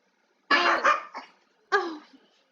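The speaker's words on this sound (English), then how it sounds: "My dogs are going crazy." A dog gives two sharp barks, close and loud, the first followed by a quick rougher yelp. A short pause separates them from a final bark, all against a quiet background.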